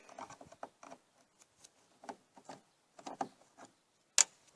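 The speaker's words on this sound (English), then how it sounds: "You're going to remove it with a Phillips head screwdriver." A Phillips head screwdriver backs out the short screws of the license plate light on a Jeep Cherokee XJ. Faint, sparse clicks and small scrapes come at irregular intervals, with one sharper tick near the end.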